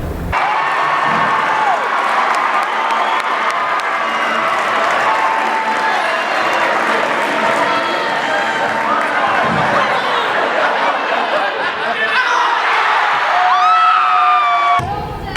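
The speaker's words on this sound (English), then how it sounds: "For his third shot, Will got the crowd fired up" A basketball game crowd cheers loudly and steadily as a player lines up his third shot, a dense roar of whoops, shouts and children's yells with scattered clapping, swelling toward the end.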